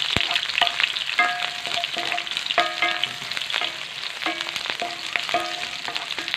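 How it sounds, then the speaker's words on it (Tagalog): Garlic, onion and siling labuyo chili sautéing in a pan for beef ribs adobo, a steady bright sizzle broken by repeated metallic clinks of a spatula stirring against the pan, close and with no talking. "unang gagawin natin, siyempre manggisa tayong bawang, sibuyas at siling labuyo"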